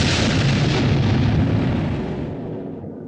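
Bombs dropping on Dresden in the 1972 film Slaughterhouse-Five make a loud, sustained rumbling roar of explosions that slowly fades away.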